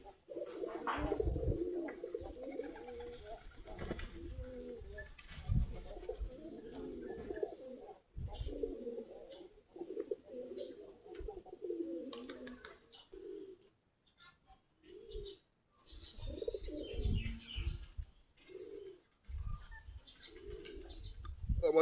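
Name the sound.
deshi giribaz pigeons cooing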